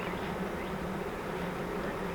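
A swarm of honeybees, calm rather than agitated, buzzing steadily near a swarm trap as some still fly in the air; the drone is constant and close, with no talk over it.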